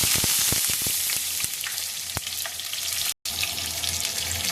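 Cumin seeds and green chillies fry in hot oil in a pan with a steady, loud sizzle. Sharp crackles and pops burst through the hiss, which breaks off briefly before resuming.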